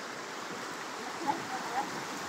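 Floodwater rushes steadily like a river in Sitio Sabang, Barangay Cabayugan, Puerto Princesa City, Philippines, a continuous broad roar with no pauses.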